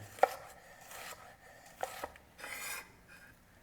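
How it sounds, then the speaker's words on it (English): A knife slices an onion on a cutting board in gliding strokes, a few sharp quiet chops and soft scraping rubs spaced apart, close up and without talk. "start with slices, keeping the knife on the board in a little gliding motion."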